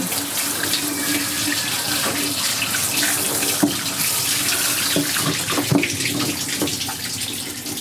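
Steady water from a sink tap runs continuously while hair is rinsed under it, a close, even splashing rush with small irregular spatters throughout and no talking.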